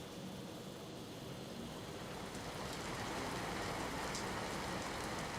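Heavy monsoon rain pours steadily in Khedbrahma, Sabarkantha, Gujarat, a dense continuous hiss of drops drumming on surfaces that swells slightly louder toward the end, with no voices.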